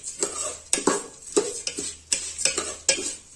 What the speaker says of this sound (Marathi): मीठ एका जागी बसू नये पसरावं म्हणून ते फ्राय करते